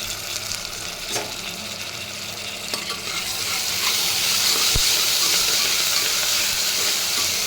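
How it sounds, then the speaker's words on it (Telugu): Tomatoes and curry leaves sizzle and hiss steadily in a pan of chicken gravy, the frying growing slightly louder midway, with occasional stirring scrapes up close. "ఇప్పుడు మనం 2 టమాటాలు, కొంచెం కరివేపాకు వేసుకుందాం."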